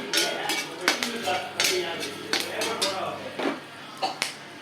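Curry leaves and cumin roasting in a pan for kootu kuzhambu, with sharp clinks and taps of a spoon against the pan recurring irregularly over a soft sizzle, close by.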